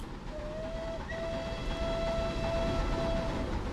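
A Rebuilt Bulleid Light Pacific steam locomotive in Train Simulator 2021 sounds its whistle in two blasts, a short note then a longer steady tone, over a soft background hiss.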